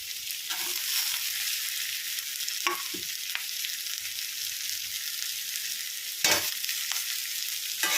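Bell pepper and onion fry in a pan with a loud, continuous hiss, broken by a few short scrapes of stirring, heard up close with no talking.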